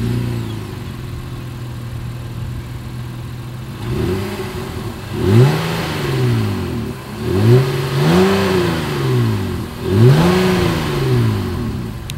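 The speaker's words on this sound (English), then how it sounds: "single exhaust outlet tucked away. So you guys know what we always have to do, as always, here is that exhaust clip" A 2020 Honda Ridgeline pickup truck engine idles steadily, then revs up three times in rising and falling surges from its single exhaust outlet, loud and close.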